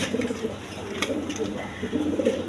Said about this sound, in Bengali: এখানে এক পেয়ার লাহরি কবুতর আছে একদম ইউ শেপের লাহরি কবুতর ব্লু বার কালার